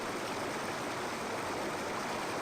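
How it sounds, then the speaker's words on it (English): Waterfall in the video game Indiana Jones and the Infernal Machine, a loud, constant broadband rush of falling water that stays steady without pause from start to finish. "unless I can get past that waterfall"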